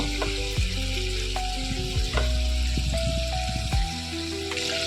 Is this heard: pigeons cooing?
no